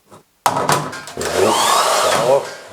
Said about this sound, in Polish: suszarka, tak, działa